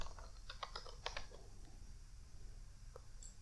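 Typing on a computer keyboard: a quick run of close, crisp key clicks in a short burst, then a pause and a couple of isolated taps.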